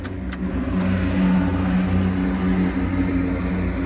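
A Kubota GL-261 mini tractor's diesel engine catches and settles into a steady, loud idle, with a low throbbing drone running continuously close by.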